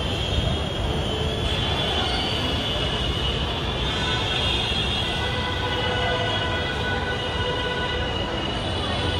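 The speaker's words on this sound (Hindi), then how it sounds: "तो गाइस मेट्रो आ गई" Steady loud rumble of a metro train arriving at a station in Delhi, rolling along the rails with metallic rail noise and high squeal, continuous throughout with some faint voices in the background.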